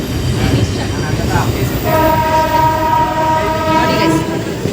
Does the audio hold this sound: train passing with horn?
yes